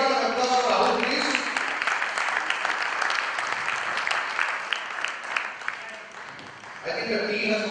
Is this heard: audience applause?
yes